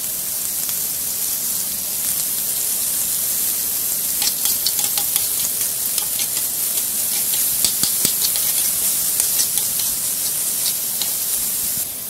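Onions sautéing with salt in a pan for Kerala-style onion chammanthi, a steady close sizzle with scattered crackles and pops building in the middle, no voices.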